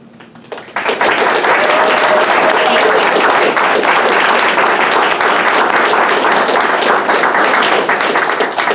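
An audience at a senior sports banquet breaks into applause, a dense, loud burst of clapping that starts abruptly and holds steady for several seconds, with no one speaking over it.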